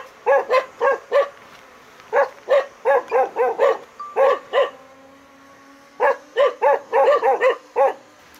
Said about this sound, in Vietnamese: Nãy giờ nó sủa mình óng hết cả đầu.